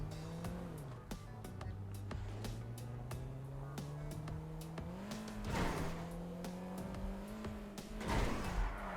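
A Kia Sorento SUV in GTA 5 drives off-road on a sloped course, its engine humming and shifting pitch while sharp knocks and bumps punctuate the run, with a louder rough surge near the end.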